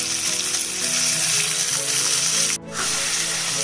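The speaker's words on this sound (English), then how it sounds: "I'm then going to add the mutton which we had marinated from earlier on." Marinated mutton frying in ghee with bay leaf, cinnamon, cardamom and cloves gives a loud, steady close-up sizzle, with a brief break near the end, no talk.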